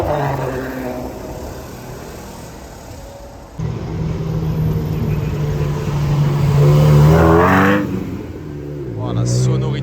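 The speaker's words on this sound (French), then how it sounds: "Oh, la sonorité sur cette 328 GTB." Ferrari 328 GTB passing on a Monaco street, its engine note building and swelling as the car approaches and goes by, loud and close, with someone talking over parts of it and other traffic around.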